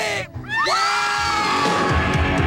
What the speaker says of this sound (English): Now scream!